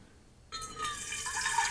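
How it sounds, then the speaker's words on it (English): Plain water poured into a stainless steel thermal coffee carafe with a hot/cold pump: after a brief quiet moment, a steady close splashing, trickling stream begins and continues, filling the vessel. "Now, I'm just going to put regular water in right now."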